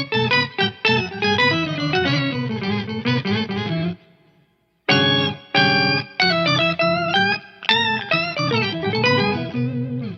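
Electric guitar run through an octave pedal pitched two octaves below, producing deep, organ-like chords played in choppy strummed bursts with a brief silent gap partway through.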